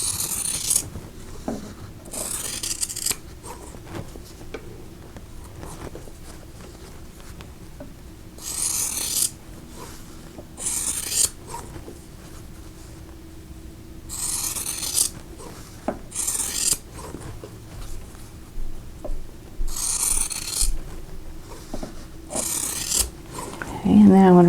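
Scissors cut through quilting fabric along a drawn line in repeated bursts of crisp snipping and rasping, with quiet pauses between the cuts.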